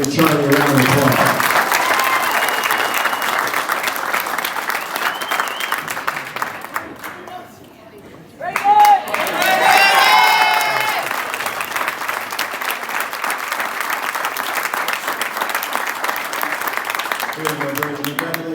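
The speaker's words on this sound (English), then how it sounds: "we're gonna give Charlie a round of applause." Onlookers at the 2025 Nashville SC Unified Team signing day give a signee a long round of applause, dense clapping with scattered cheers and voices, briefly dipping midway before swelling again and carrying on steadily.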